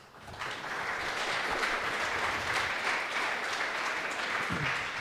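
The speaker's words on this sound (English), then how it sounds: "a round of applause for all of those guys" Sustained applause from a conference audience at a Swift developer event, starting quietly and then holding steady as a dense, even wash of many clapping hands with no voices over it.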